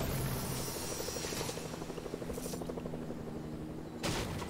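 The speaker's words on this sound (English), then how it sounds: "Helicopter." A helicopter in the Fortnite video game drones steadily with a rhythmic rotor chop for several seconds, joined near the end by a brief louder burst.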